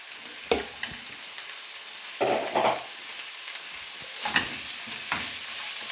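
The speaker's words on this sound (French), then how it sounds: "On se mélange notre oignon, notre ail" Onion and garlic frying in a pan for lasagne with a steady sizzle, while a utensil stirs and scrapes in several short, distinct bursts close by, with no one talking.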